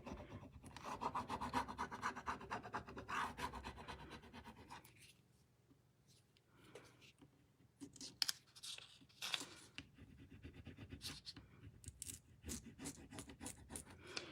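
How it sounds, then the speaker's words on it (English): A transfer is rubbed onto the dry painted surface of a Lazy Susan, giving a faint, close scratchy rasping in uneven strokes that pauses briefly midway and then resumes in quicker bursts. "once you've rubbed over the whole transfer"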